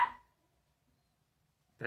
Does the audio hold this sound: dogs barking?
yes